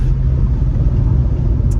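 Low, even exhaust rumble from an early-2000s German drop-top with a 3-litre straight six and manual gearbox, droning steadily and fairly loud without talk.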